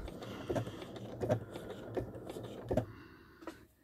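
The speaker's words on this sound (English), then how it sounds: "now I'm going to put the lock stitch on" A sewing machine runs a lock stitch at the bottom of a Dresden plate quilt block, giving quiet, close mechanical clatters in a few short bursts about once a second before stopping.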